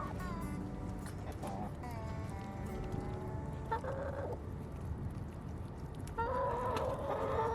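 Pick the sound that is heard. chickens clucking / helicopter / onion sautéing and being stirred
chickens clucking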